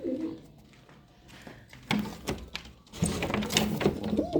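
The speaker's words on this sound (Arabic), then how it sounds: "النهاردة طبعا هنشوف الحمام، وهنشوف اخبار الحمام بتاعنا" Pigeons cooing in a loft, soft repeated coos blending with rustling and other bird noises, moderately close, with no talk over them.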